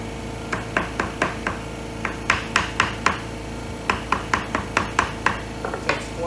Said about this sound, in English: So we actually just tap this thing.